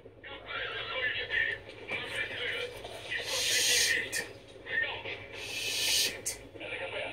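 A horse in Metal Gear Solid V neighs and whinnies several times in bright, shrill bursts, alongside game ambience and faint hoof clops, with someone talking in between.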